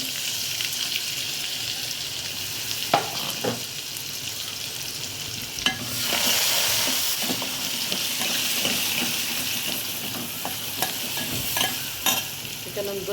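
A ground masala paste from the mixer sizzles and hisses in a hot pan with garlic, with intermittent stirring scrapes and clinks; the sizzle swells midway and continues steadily.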